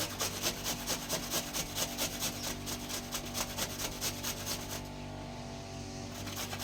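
Vegetables such as cucumber, carrot, radish and apple rubbed on a grater, a steady rhythmic rasping of repeated strokes close by, slowing and fading near the end.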